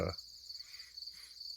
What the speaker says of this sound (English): listen to the crickets chirp or the frogs croak.